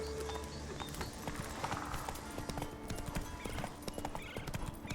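Horse hooves clip-clop steadily in The Witcher 3: Wild Hunt as a rider travels on horseback, a continuous fast rhythmic patter over game ambience with a faint whinny, and no speech.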